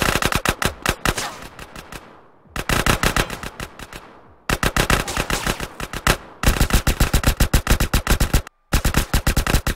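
Gunfire in the video game GTA San Andreas: loud, rapid automatic bursts in several long strings, separated by brief pauses and a short silence, with no talk.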